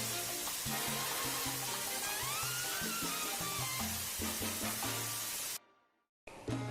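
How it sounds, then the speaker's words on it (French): Pieces of meat sear in a very hot pan over high heat, a loud, dense sizzle running steadily with faint stirring clicks, then cutting off abruptly near the end. "prenez une poêle bien chaude et sur un feu vif, cuisez vos morceaux de viande 2 à 3 minutes sur chaque côté"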